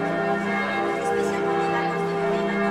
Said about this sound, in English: So there's the church bells right now.